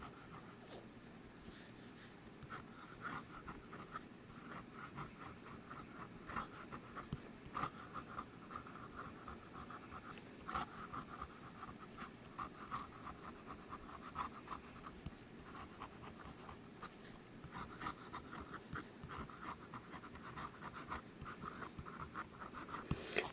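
A 0.7 mm bamboo wood pen with a scratchy nib writing on paper, soft continuous scratching and rasping strokes with short pauses, close and quiet, no voices.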